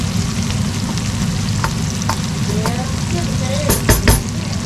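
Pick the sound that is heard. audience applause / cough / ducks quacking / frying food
frying food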